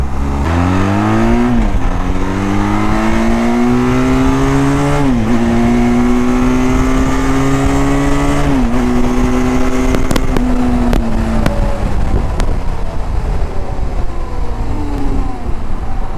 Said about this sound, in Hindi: यार मतलब 2 सिलेंडर बाइक है और exhaust note it's quite matching to inline 4।